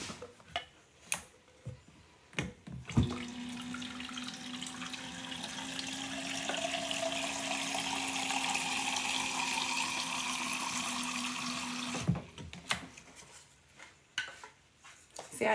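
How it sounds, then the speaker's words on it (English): A tap runs steadily for about nine seconds, the tone rising slightly as a water bottle fills, framed by soft handling clicks and knocks before and after. "I'm going to refill my water real quick,"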